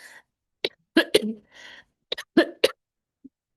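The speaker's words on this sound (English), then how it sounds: "A cough here and there" A few short, sharp coughs from a sick man close to the microphone, separated by brief silences, with a bit of breathy throat noise between them.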